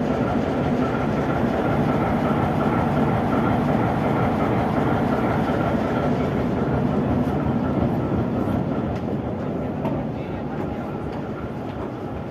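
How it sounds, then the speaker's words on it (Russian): An RA2 rail bus idles at Finlyandsky station in St. Petersburg, with a shunting diesel locomotive coupled at the far end. A continuous loud low engine rumble and platform noise fill the whole stretch, easing slightly near the end. "Рельсовый автобус РА-2 на Финляндском вокзале."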